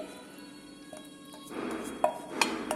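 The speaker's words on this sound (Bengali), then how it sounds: "এবারে ঢেলে ফেলছি।" Cooked curry of elephant foot yam and potato, made without oil, tipped out of a pan, with soft scraping and a few sharp clinks of metal cookware growing louder toward the end.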